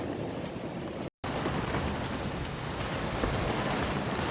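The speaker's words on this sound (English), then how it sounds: "I come out here to do some work, and it just starts to pour." Heavy rain pours down steadily on an outdoor work site beside a shed, a loud, dense, continuous hiss that drops out for a split second and then carries on unbroken.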